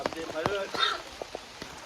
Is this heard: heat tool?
no